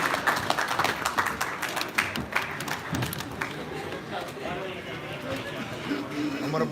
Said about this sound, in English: a big round of applause for the IBF Super Featherweight Champion